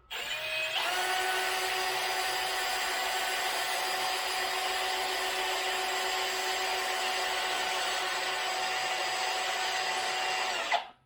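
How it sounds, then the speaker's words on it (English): The drill spindle of a Hare & Forbes HM48 mill under CNC conversion whirs up and runs at a steady high-pitched whine for about ten seconds, then stops abruptly. "There's the drill."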